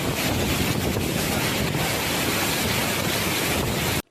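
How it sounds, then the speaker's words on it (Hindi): Typhoon winds and rough sea on the Philippine coast, a loud, constant roar of gusting wind buffeting the microphone over crashing surf, cutting off abruptly at the end. "फिलिपाइन में समंदरी तूफान साहिली इलाकों से टकराया।"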